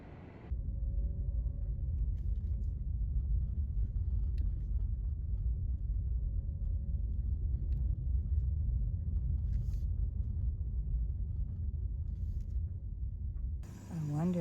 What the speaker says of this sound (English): I'm just gonna keep driving a little bit more